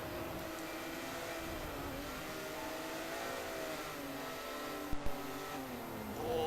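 Porsche Cup race cars roar past on a circuit, a loud sustained engine drone with shifting pitch as they accelerate, with a couple of sharp knocks near the end.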